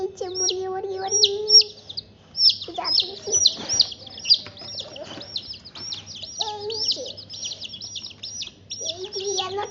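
Several chickens cluck and squawk close by in repeated bursts, with other birds chirping through the whole stretch and a person speaking briefly among them.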